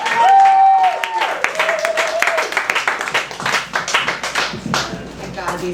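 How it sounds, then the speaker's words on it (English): Open mic crowd at Easy Paradise KGB on Juneteenth breaks into clapping and cheers for a performer's debut, a dense wash of hands with a brief whistle-like tone near the start, carrying on loudly throughout. "Let's get a big round of applause."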